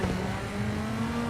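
Steady mid-revving drone of a rally car engine in WRC 7 holding a near-constant pitch through a brief stretch, loud and close with no gear change clearly marked.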